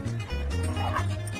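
Dogs at a city dog run give a quick yipping bark or two over a busy background of low rumble and chatter, loud and close.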